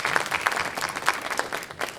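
Audience clapping at a high school holiday fine and performing arts concert, a steady patter of many hands throughout, fairly close and moderately loud.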